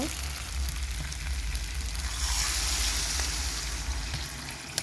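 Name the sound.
water poured into pan with frying potatoes and fish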